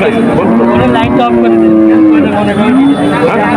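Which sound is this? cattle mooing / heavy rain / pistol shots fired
cattle mooing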